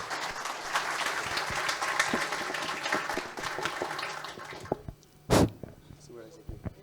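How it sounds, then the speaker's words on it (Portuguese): An audience applauds at a real estate economics event in Linhares, Brazil, a dense clapping that gradually thins out and stops, followed by a brief loud knock and a quieter space. "Uma salva de palmas para o Pedro, gente."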